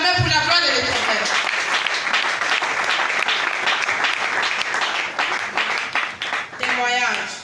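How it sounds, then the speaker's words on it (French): A church congregation breaks into loud, sustained applause and cheering, dense clapping filling the room with voices mixed in throughout. "Est-ce que tu peux acclamer pour la gloire de l'Éternel?"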